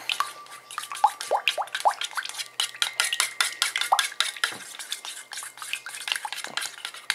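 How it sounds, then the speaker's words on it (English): Americolor gel food coloring stirred into whipped cream in a bowl, a quiet run of close, soft wet clicks and taps of a utensil against the bowl, irregular and continuous with no talk. "this is a gel that you can just drop some drops in there and mix them together"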